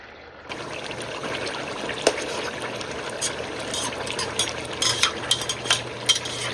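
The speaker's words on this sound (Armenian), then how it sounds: "Տապակվում է" Meat sizzles in a pan for Armenian tahal (ghavurma), a steady close frying hiss that starts abruptly and carries on with occasional stirring clatters and spattering pops.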